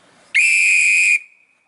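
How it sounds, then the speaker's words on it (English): An Acme long nose referee whistle is blown once for a penalty, giving a sharp, loud, steady shrill tone that lasts under a second and then cuts off. "I've only got an Acme long nose, which doesn't sound that great"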